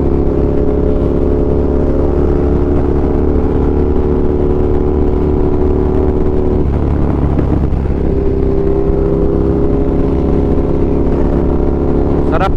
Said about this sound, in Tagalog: Ako lang yung naka-super duke dito. Tapos parang ako lang yung maingay yung motor eh no.